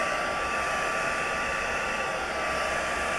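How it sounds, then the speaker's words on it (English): A crafter's heat gun blows hot air onto the frosted side of shrink plastic petals, giving off a constant, loud, even whooshing whir that never pauses or changes pitch. "Remember to use a crafter's heat gun, as only that will be helpful, and keep rotating it so that it doesn't concentrate on one place."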